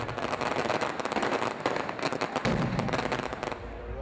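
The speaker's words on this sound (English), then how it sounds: "they started using fireworks instead" Dense crackling bursts of fireworks popping rapidly, with sharper bangs near the end over a continuous noisy rumble.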